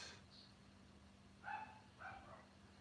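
A dog barks outdoors, heard as two faint, distant barks about half a second apart through a quiet room.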